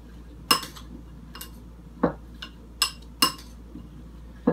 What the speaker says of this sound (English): And then what we do is we mix this all up like this.